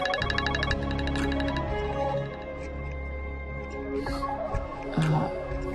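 A mobile phone rings with a repeating electronic tone over a low steady background hum, fairly clear and sustained, while a voice briefly speaks near the end.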